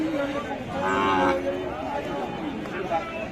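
At a cattle market near the Indian border, a cow with her calf gives a drawn-out moo in the middle of the clip, heard over a crowd murmur as people talk nearby.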